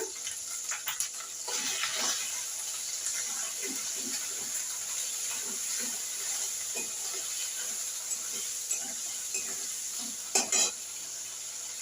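Cumin seeds drop into hot oil in a pan and spices fry with a steady, close sizzling hiss, broken by light stirring scrapes and occasional clinks of a utensil against the pan, no voices.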